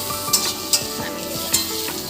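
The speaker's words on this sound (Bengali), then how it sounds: "সঙ্গে একটু চিকেনের আলুটাও হালকা করে ভেজে নেব।" Potatoes for chicken curry sizzle loudly in hot oil, with three sharp clacks of a utensil against the pan as they are stirred, close up.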